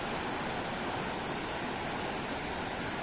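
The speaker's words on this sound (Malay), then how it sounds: "Tapi belah sini nampak air deras." Fast river water rushes past a riverside campsite on the Chor River, a dense, steady roar with no breaks, close and even in level, with no voices.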